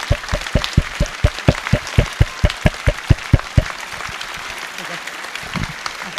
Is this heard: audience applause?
yes